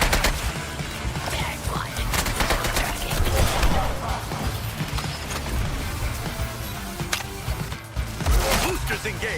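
Gunfire from Suicide Squad: Kill the Justice League crackles in rapid bursts and dense volleys, loud and close, mixed with mechanical clatter and game effects while voices speak over parts of it.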